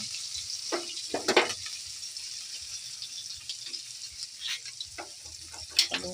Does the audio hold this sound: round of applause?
no